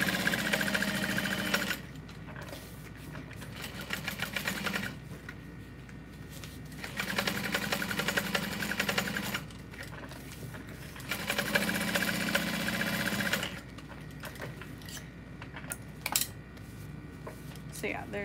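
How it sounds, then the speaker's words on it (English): A sewing machine stitches lines across fabric in repeated bursts of rapid mechanical whirring, each lasting a few seconds and separated by short pauses, with a person talking during the quieter gaps. "I'm gonna make a few lines of stitching across,"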